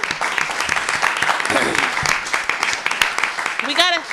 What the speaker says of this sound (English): We have to clap and celebrate